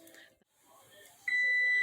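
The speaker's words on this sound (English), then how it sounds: "The timer's going off." Kitchen timer going off while a chicken cheese casserole bakes: a steady, fairly loud electronic beep tone begins partway through after quiet background sounds.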